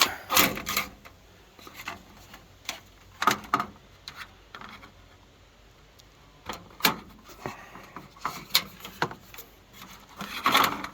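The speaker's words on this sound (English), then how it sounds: "We'll go ahead and cut this straight as I can get it." A piece of wood being cut by hand, with irregular rasping strokes and scrapes at close range, some louder bursts between quieter gaps, and no talking.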